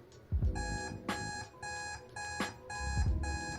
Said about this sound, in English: That timer wasn't supposed to be loud.